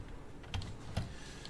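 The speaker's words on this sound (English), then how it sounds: "press enter on the keyboard" Keys on a computer keyboard are pressed during a 3D design session, a few soft, close clicks spaced apart over quiet background hiss.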